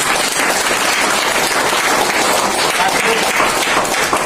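A large indoor audience bursts into loud, sustained applause, a thick continuous roar of clapping that stays at full strength from start to finish.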